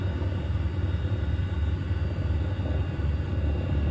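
PBY Catalina flying boat sitting with engines running before takeoff, a steady deep droning rumble with a throbbing low pulse, heard from inside or close by, continuous and fairly loud with no other sounds.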